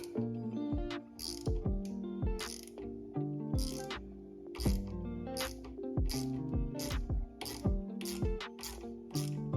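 A hand ratchet removing studs on a Nissan Maxima clicks close and crisp in repeated quick bursts, its pawl ticking in steady rhythmic strokes with short pauses between.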